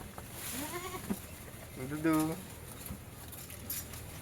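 A bottle-fed young goat kid bleats twice, a short wavering cry followed by a louder, longer quavering call, close by in a quiet setting on a stall-fed goat farm.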